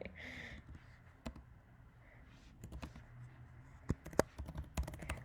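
Irregular clicks of keys being struck on a computer keyboard, nearby and unhurried, with short pauses between bursts of typing.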